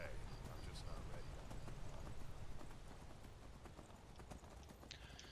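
Horse hooves clip-clop in a quick, continuous gallop in Skyrim, close and fairly loud throughout, with ambient game noise around them.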